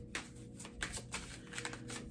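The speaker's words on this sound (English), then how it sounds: "So we're gonna shuffle again." Tarot cards being shuffled by hand in a few quick riffling bursts, close and crisp, with no voice over them.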